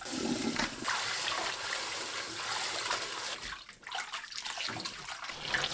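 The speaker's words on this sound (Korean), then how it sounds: "바로 찬물에 두세 번 헹궈 뜨거운 열을 씻어냅니다." Cold running water pours steadily over blanched spring cabbage (bomdong) as it is rinsed, a continuous splashing rush from a tap that shifts slightly midway.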